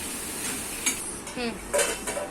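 A spoon stirs tomato and onion masala in a pan, giving a few scraping clinks and soft frying hiss, close and fairly quiet.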